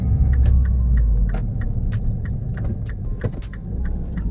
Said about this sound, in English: The exhaust sounds alright with high revs